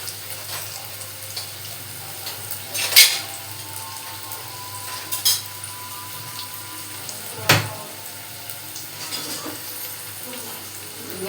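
Onions sautéing in oil with mustard seeds and curry leaves in a kadai, a low continuous sizzle with a few sharp scraping stirs and clinks spaced several seconds apart, close and moderate in level, with no talk.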